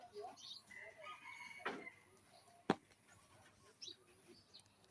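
Chickens cluck in scattered calls while eating rice in the morning, and a rooster crows once, loud and sharp, against a quiet rural background with faint distant sounds.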